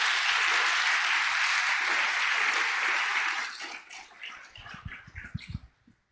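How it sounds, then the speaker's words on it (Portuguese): Church congregation applauding at a worship service, a loud, dense, steady wash of many hands clapping for about three seconds, then fading into scattered claps as a voice resumes speaking. "Quem está entendendo, aplauda Jesus"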